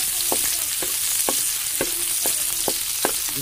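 Garlic and onion sizzle steadily in a pan for a fish escabeche, with a spatula scraping the pan in a regular rhythm of about two strokes per second. The sound is close and continuous, and no one speaks.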